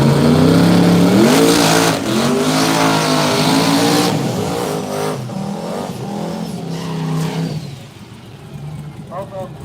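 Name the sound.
high-horsepower hot rod cars drag racing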